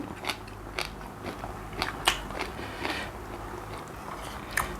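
Close, crunchy chewing of fatty meat scraps from a Thai curry, with repeated bites and crackling crunches in an uneven rhythm, alone without talk.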